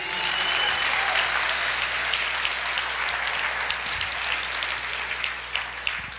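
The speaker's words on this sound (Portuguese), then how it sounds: "Você pode aplaudir o Senhor" A church congregation applauds in a sustained, dense wash of clapping that fills the room evenly and tapers slightly toward the end.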